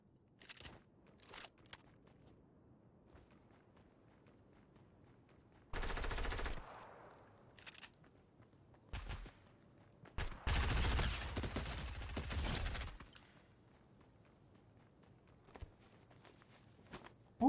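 Fortnite gunfire crackles in the distance in several bursts, with a short volley first and then a longer sustained spray of rapid shots, separated by quiet stretches with faint footsteps and isolated single pops.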